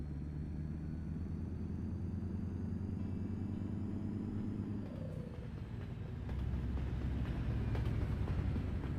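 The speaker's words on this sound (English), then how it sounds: "Oh, that train was loud." A loud train passes in Euro Truck Simulator 2 while driving a truck in Switzerland, a steady low rumble of wheels and engine that swells and grows heavier near the end, with no talk.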